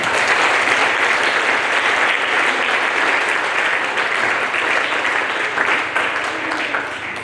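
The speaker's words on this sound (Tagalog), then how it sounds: "Isa pang palakpak sa Panginoon" A church congregation at a Filipino worship service claps in a long, dense, steady round of applause that stays loud and unbroken for several seconds.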